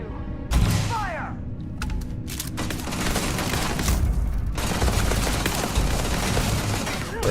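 Gunfire rattles through a firefight in the video game Starfield, loud bursts and single shots mixed with booms and mechanical clatter, nearly continuous over the whole stretch.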